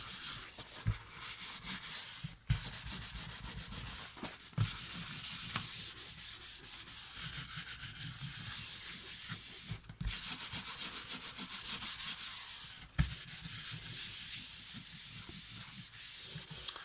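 Paper is rubbed firmly by hand to press it onto glue on a 30.5 cm square album page, giving repeated scratchy swishing strokes, close and loud, broken by a few short pauses.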